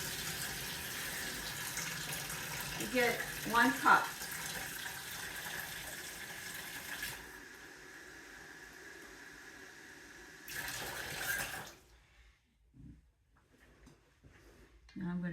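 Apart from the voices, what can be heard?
cold tap water running into a measuring cup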